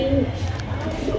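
Yellow-eyed high-flying pigeons from Khulna coo close by, a low throaty murmur that rolls on continuously over a busy background hum.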